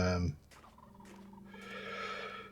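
Turkeys gobbling in the video game TerraFirmaCraft, a Minecraft mod, heard as a faint gobbling call after a brief low sound at the start, with no speech over it.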